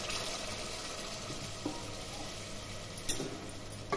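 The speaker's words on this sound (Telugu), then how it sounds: "ఈ తీసి ఉంచుకున్న చింతపండు రసాన్ని ఇందులో పోసేస్తున్నాను" Tamarind juice is poured into a pan of sambar on the stove, giving a faint, continuous watery wash and gentle bubbling, with a couple of small splashes near the end and no talking.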